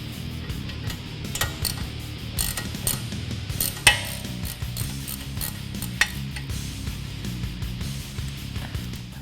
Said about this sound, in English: So we're going to start off by undoing these bolts right here.